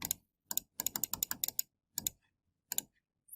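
Short bursts of plastic key taps on a calculator keypad, quick clustered clicks with pauses between, close and quiet with no voices.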